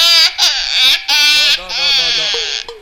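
A performer's voice imitates a newborn baby crying, giving loud, close, wailing sobs in several long bursts with short catches of breath between them.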